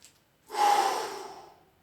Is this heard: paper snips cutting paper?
no